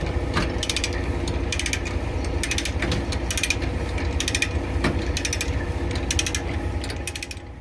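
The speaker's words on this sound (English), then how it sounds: "tightening the ratchets a little bit better" Ratchet straps being cranked tight on a flatbed load, a rapid clicking pawl heard in repeated bursts of several seconds each, close and loud over a steady background rumble.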